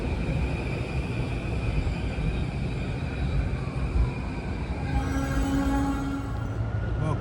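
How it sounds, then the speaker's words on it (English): A Kawasaki M8 electric commuter train rumbles steadily through a Harlem station, moderately loud and continuous, with a faint rising whine or wheel squeal toward the end. "Kawasaki M8s."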